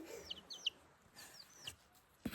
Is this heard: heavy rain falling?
no